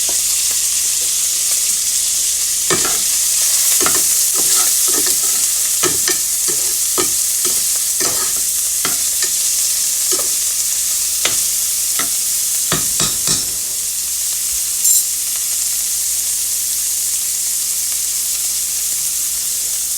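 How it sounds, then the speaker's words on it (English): Onions and green peppers sauté in a pan, a steady sizzle and hiss broken by repeated scraping stir strokes, close and fairly loud, with no voices. "And I'm going to put my onions and green peppers in here. I'm going to saute them down."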